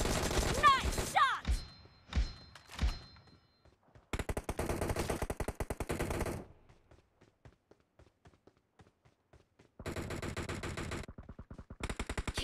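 Automatic gunfire in the PUBG Mobile video game comes in several rapid bursts, some short and choppy and others sustained for a couple of seconds, with quiet gaps between them and brief game sounds at the start.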